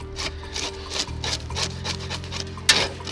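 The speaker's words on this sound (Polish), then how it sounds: "A więc ryba powinna być mokra i nie bez znaczenia jest dobra skrobaczka." A scaler scraped repeatedly along a wet zander, giving close, rhythmic rasping strokes in a steady series over a low background hum, with one sharper scrape near the end.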